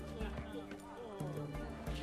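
Horse hooves from the video game The Witcher 3, steady clip-clop footfalls under continuous game ambience and tonal background, with talking voices.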